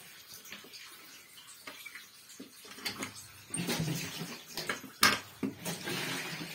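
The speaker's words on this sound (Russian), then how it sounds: "Держишь, вода идет." Water runs from a hand-held spring pump tap at a village spring, a soft splashing flow that swells and grows louder midway, with scattered clicks and knocks of handling. No one speaks.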